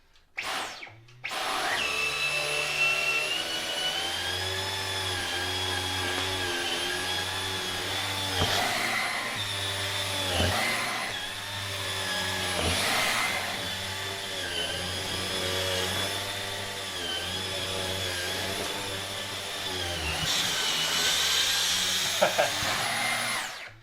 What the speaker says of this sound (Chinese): 看看吸一遍床它能吸多少东西出来